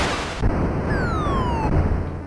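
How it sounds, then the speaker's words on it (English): Super Cobra arcade game explosions crackle in a dense, continuous burst, with descending electronic whistling tones sliding down over the rumble. "It's doing multiple explosions."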